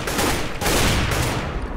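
Gunfire in the video game Counter-Strike: Global Offensive, a rapid burst of loud, closely spaced shots with a brief break before the firing resumes.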